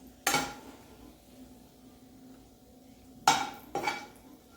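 A spoon stirring red chillies in hot oil in a metal pan, with three sharp scraping clatters against the pan separated by quiet pauses and a faint steady hiss beneath.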